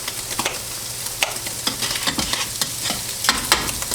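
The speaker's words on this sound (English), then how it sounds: "So we're just going to let that simmer" Spaghetti sauce simmering in a pan, a continuous crackling bubble broken by frequent short stirring clatters, close up and with no voices.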